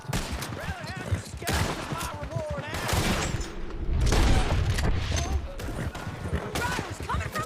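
Rapid bursts of gunfire crackle in Red Dead Redemption 2, with frequent shots and booms mixed with excited voices.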